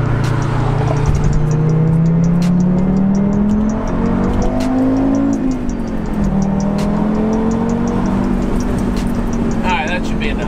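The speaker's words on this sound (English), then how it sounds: "So this is stock exhaust, no cold air intake right here." Stock exhaust of an Audi TT RS with no cold air intake, accelerating on the interstate; a loud, steady engine drone rises and shifts in pitch through gear changes, with road and wind noise throughout and voices faintly underneath.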